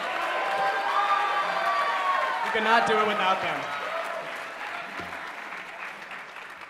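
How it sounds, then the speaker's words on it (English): Audience applause and cheering for the musicians at a school drumline show, a loud crowd with shouts that fades gradually while a person speaks over it. "can we just get one more round of applause for these awesome musicians?"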